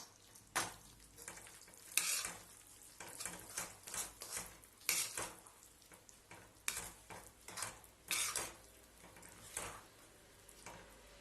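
Flour mixture being stirred into sugar syrup for panjiri, heard as quiet irregular scraping strokes and soft bubbling at close range, no voices.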